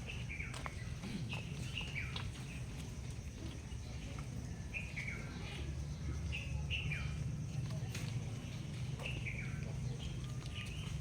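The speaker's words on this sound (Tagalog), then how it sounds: "Lovebirds feeding" Lovebirds at an ostrich farm chirp in repeated short, bright calls spread across the scene, heard at moderate distance over steady low background noise with people talking nearby.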